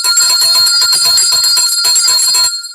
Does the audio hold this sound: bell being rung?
yes